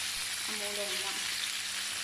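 Pork frying in a pan for a Thai basil stir-fry, a steady close sizzle with a brief tonal squeak partway through and no talking.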